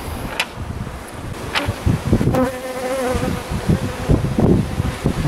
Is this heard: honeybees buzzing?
yes